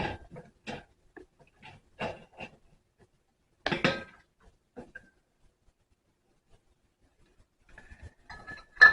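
A metal lid and band being placed and hand-tightened onto a glass canning jar of mango salsa: scattered short clinks and scrapes of metal on glass, a brief cluster of louder rattles midway, quiet gaps between, no talking.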